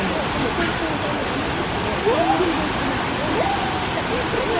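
Steady roar of Kegon Falls in Nikko, a broad continuous rush of falling water filling the background while tourists talk over it nearby.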